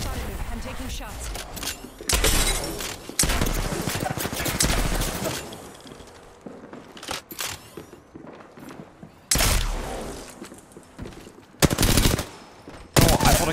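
Bursts of R-301 rifle fire in the Apex Legends video game crack out in several loud, rapid volleys separated by short pauses, mixed with footsteps and other game sounds up close.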